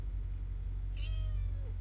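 A cat gives a single short meow, faint and fairly close, over a steady low background hum.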